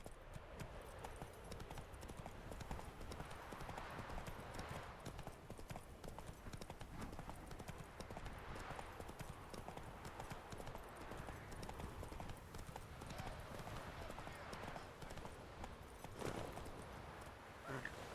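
Horse hoofbeats in The Witcher 3 video game form a steady, quick clip-clop that continues without a break, with a voice speaking faintly in the background.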